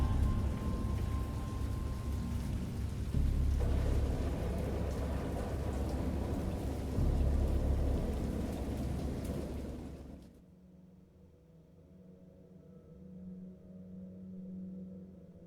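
Heavy rain pours steadily with low rumbling thunder in the video game Dagon, then cuts off abruptly, leaving a quiet low hum.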